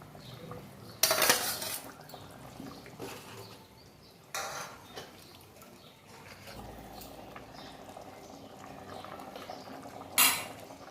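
Fried prawns go into a pot of jackfruit curry and are stirred, bringing several sharp metallic scrapes and clinks of a spoon against the pot over a soft, low bubbling background.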